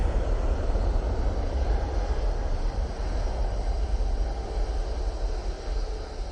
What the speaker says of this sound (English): there goes the Tui.